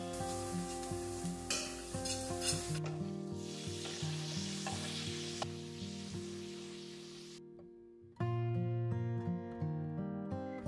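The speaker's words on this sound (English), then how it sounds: "I fry onions, add spices like turmeric, coriander powder and red chili powder with some salt, then tomatoes and the mashed brinjal" Onions, turmeric, coriander and chili powder, salt, tomatoes and mashed brinjal frying for bharta, a bright continuous sizzle under a layer of steady tonal background music, with a brief drop before the sizzle returns loudly.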